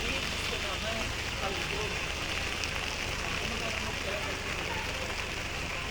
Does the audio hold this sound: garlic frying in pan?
no